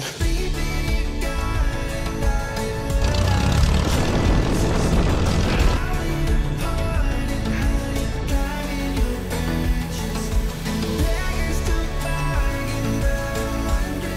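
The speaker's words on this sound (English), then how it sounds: "We're taking off out of here." Small propeller plane taking off into a strong headwind, a loud, steady engine and propeller drone with a dense rumble heard from inside the cabin throughout.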